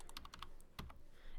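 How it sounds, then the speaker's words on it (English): Quiet taps on a computer keyboard while entering an AutoCAD command: a quick run of several light key clicks followed by a single heavier press, faint and close, with no talking. "So if I initiate a command, like I type L"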